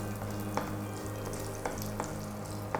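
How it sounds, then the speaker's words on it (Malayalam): Mustard seeds and curry leaves splutter in hot oil while tempering a Kerala beetroot thoran, a steady close sizzle broken by a few sharp pops at irregular intervals. "അപ്പോൾ നമ്മുടെ കടുക് പൊട്ടി വരുന്നുണ്ട്."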